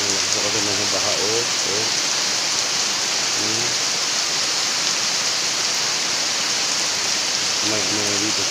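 Heavy rain falls during a flood, a dense, loud, steady hiss of rain pouring on surfaces throughout. A voice speaks briefly over it now and then.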